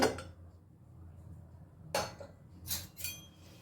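A metal lid is lifted off a pot of boiled dal, giving a few sharp clinks and clatters of metal against metal, close and distinct in an otherwise quiet kitchen.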